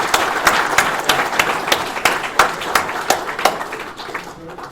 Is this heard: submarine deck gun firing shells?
no